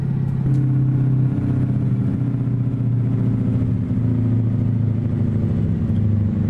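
A Caterpillar 3208 diesel engine in an International F 5080 truck in American Truck Simulator drones steadily as the truck pulls uphill in top gear, a loud, continuous low rumble at constant revs with no speech over it.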